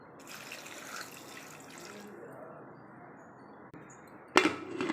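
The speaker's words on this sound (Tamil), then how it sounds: "இப்போ இதில் தண்ணி ஊற்றி நம்ம விசில் வைக்க போகிறோம்." Water being poured into a pressure cooker holding eggplant: a soft, continuous splashing pour for about four seconds, fairly quiet, followed by a sharp metallic knock at the end.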